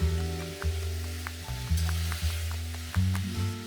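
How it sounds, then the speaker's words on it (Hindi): Tomatoes and cauliflower are stirred and cooked together for pav bhaji, with a steady sizzle, regular scraping stir strokes and a constant low hum underneath. "इसके बाद मैं इसमें डाल रही हूँ 2 से 3 टमाटर, और इसको भी थोड़ा सा मिक्स करके पकाएंगे"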